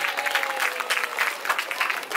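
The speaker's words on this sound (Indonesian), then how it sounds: "Beri tepuk tangan semuanya." An audience claps at a Hari Santri Nasional commemoration, a dense, steady round of applause from a crowd lasting the whole moment, fairly close with no voices over it.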